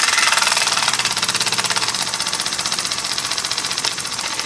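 A small single-acting oscillating steam engine running slowly, giving a steady, close, rapid mechanical chuffing and knocking rhythm that carries evenly throughout.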